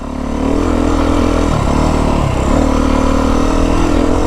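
A 2025 Beta 350RR X-Pro dirt bike engine drones steadily and loud while being ridden in second gear over rough ground, with a brief dip in revs midway before it picks back up.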